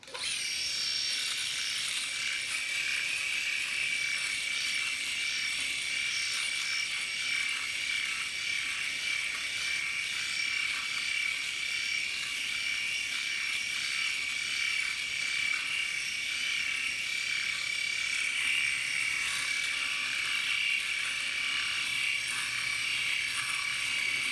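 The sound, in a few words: Philips S9000 Prestige electric shaver shaving face without cream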